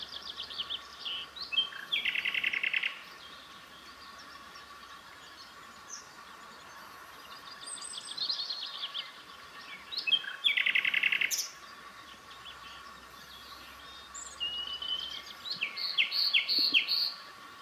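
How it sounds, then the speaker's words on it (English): Nightingale song at RSPB Minsmere, bursts of rich, rapid phrases repeating every few seconds at moderate distance, with other birds chirping faintly in the background and a steady low hum beneath. "I am the queen of SpringVlog because I managed to get footage of the nightingale."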